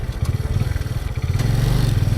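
Motorcycle engine running steadily while riding over rough, rocky red desert terrain in Peru, a close, continuous low throttle drone with uneven bumps and rattles, no talk.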